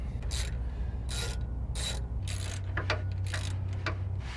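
A hand ratchet with a swivel extension works nuts loose on a Ford Super Duty, reaching over the sway bar; repeated short bursts of clicking and rasping against a steady low hum, close and clear.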